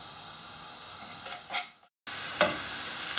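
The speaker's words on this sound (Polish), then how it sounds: "Na rozgrzany olej wrzucam cebulkę i podsmażę do momentu zeszklenia." Onion fries in hot oil with a steady soft sizzle, broken by a couple of stirring scrapes and a brief total dropout in the middle, with no talking.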